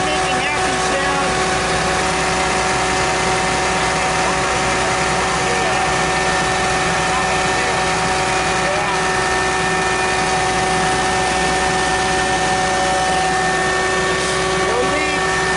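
A big old bucket truck's engine runs steadily with its generator going, a loud, continuous, even drone with a mechanical hum, close by and unbroken throughout.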